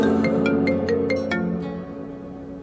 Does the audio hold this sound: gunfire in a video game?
no